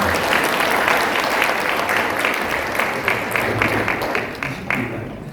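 A large assembly at a church presbytery meeting applauds the children's department union president with loud, dense, sustained clapping that fades slightly toward the end.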